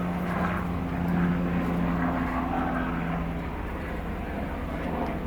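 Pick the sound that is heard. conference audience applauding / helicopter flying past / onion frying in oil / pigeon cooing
helicopter flying past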